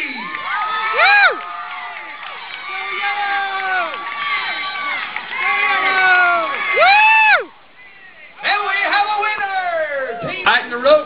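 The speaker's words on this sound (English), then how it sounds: "All right, cheer them on now, ladies and gentlemen" Spectators at a canoe tug of war roar and whoop in loud bursts, children shrieking among them, a short lull near the end and then the cheering surges again with shouted voices.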